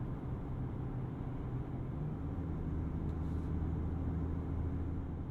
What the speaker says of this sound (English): At higher speeds, we are hearing more of that wind and tire noise